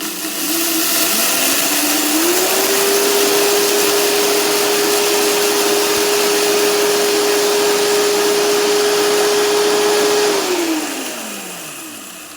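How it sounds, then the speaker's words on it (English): A Vitamix blender grinds sprouted wheat kernels into flour, the motor ramping up to a loud steady whine with gritty rushing noise, holding for several seconds, then winding down. "So simply to make the flour, I use my Vitamix."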